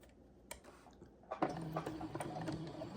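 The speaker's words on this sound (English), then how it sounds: "we're getting ready to go ahead and sew that together now" A sewing machine stitches a 1/4 inch seam on a shell dress, starting after a few faint ticks and settling into a steady, close mechanical whir with quick rhythmic clicks.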